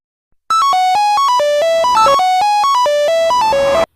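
Mobile phone ringtone, a loud, clear melodic tune of quick stepping electronic notes that repeats steadily for about three and a half seconds with no talk over it.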